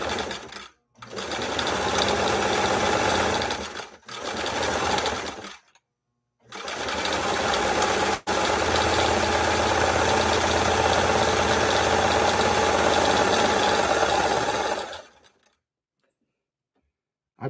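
A 1962 Singer 328K sewing machine runs decorative stitches with a loud, steady mechanical whir in several bursts separated by short pauses, the longest stretch running about seven seconds before stopping.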